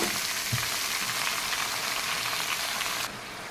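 Salted food frying in a pan while being stirred, a dense, steady sizzle heard close, with a dull knock near the start and the level dropping slightly just before the end, no voices.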